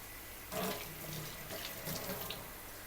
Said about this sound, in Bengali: হাতটা ধুয়ে নে